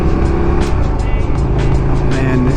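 A KTM 1290 Super Duke R motorcycle engine roars steadily and loudly during a test ride, a continuous close drone with rising and falling revs throughout.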